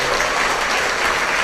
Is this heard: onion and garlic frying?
no